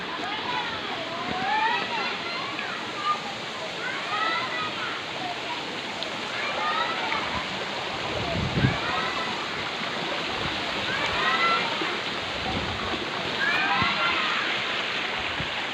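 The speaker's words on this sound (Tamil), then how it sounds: "இதான் மாங்கனி ஓடை." Mangani Odai, a mountain stream on the Sathuragiri trail, flowing with a steady rushing wash of water, while birds chirp repeatedly above it and a few louder splashes break through.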